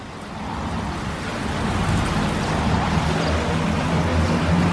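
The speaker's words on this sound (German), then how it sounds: "Also muss er duschen gehen." A shower runs at a sauna, a steady rushing hiss of falling water that slowly grows a little louder, heard alone without talk.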